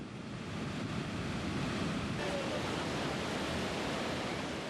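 Roaring river rapids with a small waterfall during whitewater rafting in East Africa, a dense, steady wash of rushing water that holds loud and close throughout without a break.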